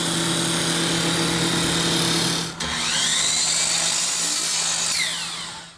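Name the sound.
trimming down a wooden baseball bat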